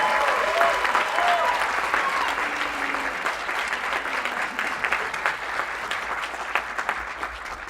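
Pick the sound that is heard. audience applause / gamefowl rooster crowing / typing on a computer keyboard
audience applause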